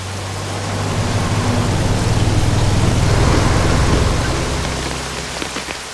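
Steady rain falls continuously, a broad hiss of drops on surfaces with a low rumble beneath, loud and close, swelling slightly mid-way and easing near the end, with no voices.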